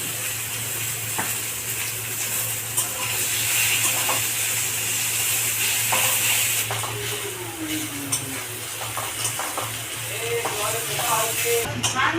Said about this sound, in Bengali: পেঁয়াজটা আমি লাল করে ভেজে নেব, একটু নুন দেবো, পেঁয়াজটা ভাজতে ভালো হবে